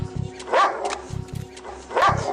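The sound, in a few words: dog-like barking from a replayed video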